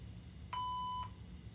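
A single clean answering machine beep, a steady mid-pitched tone lasting about half a second over faint background hiss.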